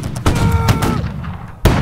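A musket volley from a first line of soldiers in a video game booms out as one loud blast, followed by a rumbling tail and a second crack near the end.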